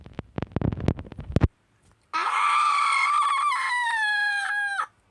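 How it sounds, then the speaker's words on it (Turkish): A loud, sustained scream lasting about three seconds, shrill and strained, following a quick run of sharp clicking thuds and a short silence. "O çığlık sesi benden mi çıktı?"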